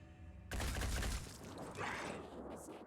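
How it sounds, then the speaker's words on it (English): Assault rifle fire in the video game Phoenix Point comes as a sudden, dense volley of shots that starts sharply and continues for over two seconds, fairly quiet overall. "might as well shoot with the assault rifle too"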